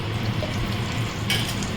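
Cardamom, cinnamon and cloves fry in oil and ghee in a kadai, a steady low crackling sizzle with a brief brighter metallic stir near the end, no talking.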